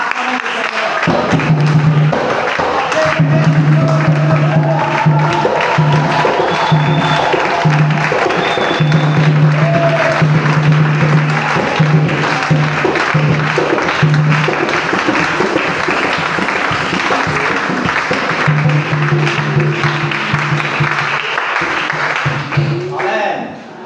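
A church congregation applauding and acclaiming the Lord, with sustained loud clapping and rhythmic thumping running throughout, a crowd of voices calling out over it.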